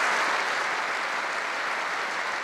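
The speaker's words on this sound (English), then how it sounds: "There was spontaneous laughter and applause as anecdotes were shared with friends and fans." Sustained applause from a funeral crowd of friends and fans, a dense, even roar of many hands clapping at steady loudness throughout, with no voices standing out.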